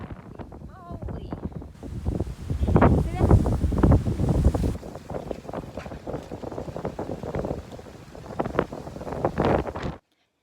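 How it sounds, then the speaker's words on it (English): Strong gusty wind on a bushfire day buffets the microphone outdoors, loud and uneven with roaring bursts, while a person speaks briefly near the start. "This is how windy it is today."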